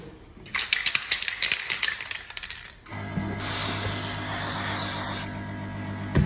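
A few metallic rattles and clicks, then an aerosol can sprays in a steady hiss for a couple of seconds before stopping, during magnetic particle crack inspection of a material.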